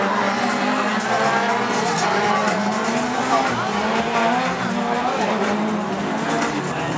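Rallycross cars racing on the Biķernieki track in Riga, engines roaring and revving continuously at a distance with tire noise and crowd ambience, while a commentator talks over the action throughout.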